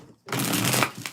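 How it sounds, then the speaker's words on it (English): A single quick riffle of tarot cards being shuffled, close and crisp, lasting under a second. "Let's get 4 shuffles."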